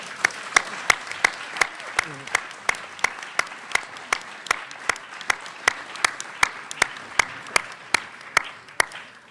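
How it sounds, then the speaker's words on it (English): An audience applauds candidates at a Guernsey by-election hustings, heard as sparse, evenly spaced distinct claps in a steady rhythm at moderate loudness, with no voices over them. "I think we should give them a round of applause."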